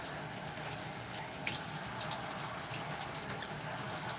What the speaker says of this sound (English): I'm going to leave the twist in my hair and rinse the conditioner out